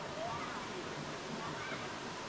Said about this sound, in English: we have made it to the waterfalls that we were originally going for